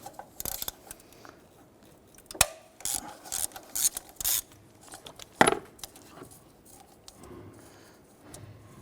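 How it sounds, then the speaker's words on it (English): A ratchet with a 13mm socket works an alternator nut loose on a 1999-2004 Jeep Grand Cherokee 4.7L V8, giving bursts of close metallic clicking and scraping with short pauses between strokes. "We're going to remove this nut here using our 13mm socket."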